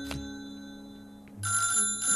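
A telephone rings in the video game Little Big Workshop, a short electronic ring burst that starts abruptly and repeats, clear against quiet game music.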